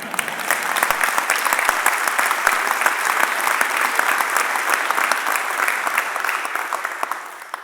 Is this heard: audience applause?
yes